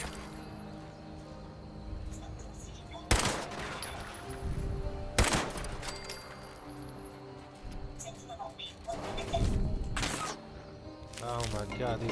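Gunfire in the game Fallout 76: a few sharp, separate shots spaced seconds apart, heard against steady game background noise and music, with some scattered clinks.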